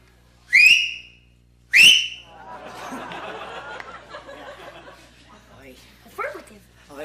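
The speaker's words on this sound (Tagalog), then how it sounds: "Sumipol ka lang." A person whistles two short, sharp rising notes, each loud and close, followed by laughter and murmured voices with a dog-like whimper in the background.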